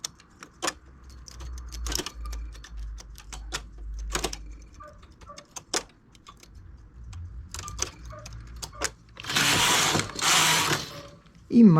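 A hand-operated knitting machine carriage works a lace stitch, sending sharp clacks and ratcheting mechanical clicks at irregular intervals, with one longer louder sliding rasp near the end.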